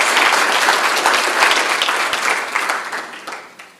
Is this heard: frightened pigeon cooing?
no